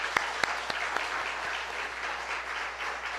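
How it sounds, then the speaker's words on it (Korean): A church congregation claps together at a Korean Sunday worship service on youth Sunday, producing steady, dense applause that holds at an even level for a few seconds, with a few sharper individual claps standing out near the start. "우리 큰 박수로 한번 격려하겠습니다."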